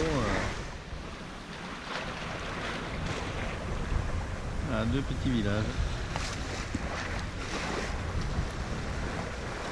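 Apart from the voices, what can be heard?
wind on sailing boat at sea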